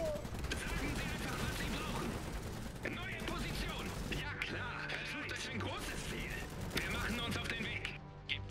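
Enemy gunfire in the game Iron Harvest, dense bursts of rattling shots and heavy impacts forming a loud, continuous battle din, with a voice speaking over it.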